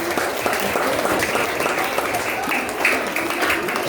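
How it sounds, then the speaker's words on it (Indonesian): An audience at an elementary school Christmas celebration applauds the school choir, with dense, steady clapping that fills the whole stretch at close range. "Kita berikan aplaus untuk KOR."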